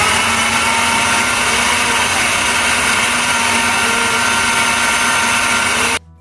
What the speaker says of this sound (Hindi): यहाँ पे मैंने हाफ़ ही मिक्सचर ब्लेंड कर रही हूँ ब्लेंडर में